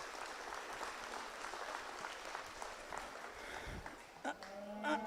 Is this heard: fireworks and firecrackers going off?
no